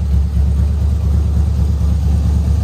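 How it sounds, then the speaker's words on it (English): A 1972 Ford F-100 short-bed pickup's engine idles nearby, a steady low rumble with an even pulsing beat running throughout, no talking over it. "I left it running so y'all can hear the motor."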